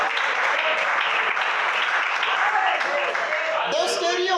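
Church congregation applauding during an evening Portuguese-language worship service, a steady dense wash of clapping sustained throughout, with some voices mixed in near the end.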